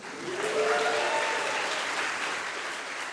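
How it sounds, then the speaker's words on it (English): Sustained applause from a crowd, steady and fairly loud throughout, with a few faint whistles rising above the clapping. "So a second round of applause just for the slides."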